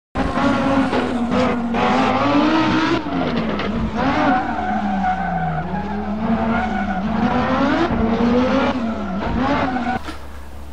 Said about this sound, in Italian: Hanno cambiato l'impianto dello scarico e quindi di conseguenza quest'auto ulula.